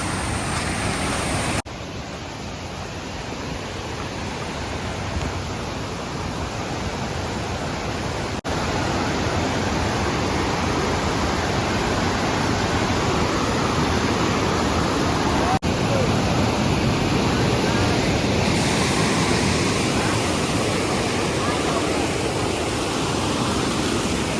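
Continuous loud rush of a rain-swollen monsoon waterfall in the Konkan countryside, a steady broadband roar, unbroken from start to finish.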